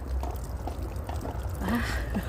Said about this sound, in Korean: 예, 물을 주었습니다.